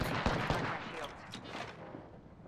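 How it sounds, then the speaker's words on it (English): Rapid gunfire in an Apex Legends tournament match, a dense burst of shots and impacts at the start fading into a rattling wash, loud and close, with no clear voice over it. "Getting shot at."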